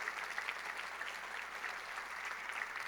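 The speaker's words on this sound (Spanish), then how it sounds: "Denle un aplauso al Señor" A church congregation claps in steady, even applause, a soft and fairly distant wash of many hands that holds constant throughout.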